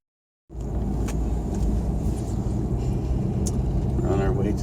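A car drives along a road toward a yacht club, its low engine and tyre rumble starting abruptly and then holding steady and loud from inside the cabin, with no talking.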